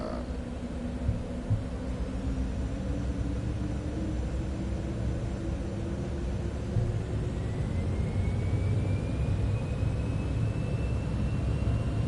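A Cessna private jet's engines in Microsoft Flight Simulator 2024 make a steady, loud turbine roar with a rising whine during a rolling takeoff, sustained and even with no talking.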